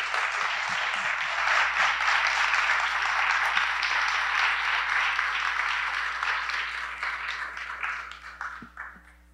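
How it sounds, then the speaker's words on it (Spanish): A festival audience claps in welcome for its director, the sustained applause steady and full before gradually thinning and fading toward the end. "a quien pido que pase aquí conmigo para que le demos un aplauso"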